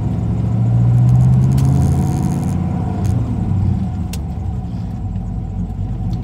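A 1996 Impala SS with a swapped Gen V engine and 6L80 transmission cruises at low revs, its engine a steady close rumble inside the cabin that swells briefly, with faint clicks and rattles and no talking.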